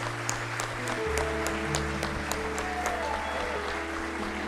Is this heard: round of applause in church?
yes